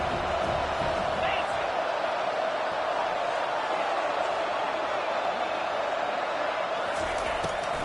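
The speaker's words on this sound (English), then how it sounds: "And the crowd starting to rise up on this early 3rd and 10." Stadium crowd in an NCAA football video game, a dense continuous roar building through the whole stretch, with a commentator talking over it.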